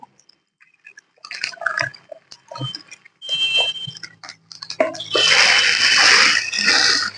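Water poured into a sawdust mushroom grow bag, about one and a half litres, heard as scattered splashes and trickles that build into a loud, steady gushing pour near the end, with no voices.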